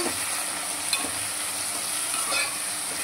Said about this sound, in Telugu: ఇప్పుడు మనం చికెన్ వేసేసుకుందాం. మంచి కలబెట్టేద్దాం.